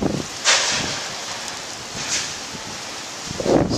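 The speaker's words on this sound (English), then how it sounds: "ooh, big gust" A strong gust of wind from Hurricane Irene buffets the microphone in Baltimore, a roaring, rushing swell with several rising surges over steady outdoor noise.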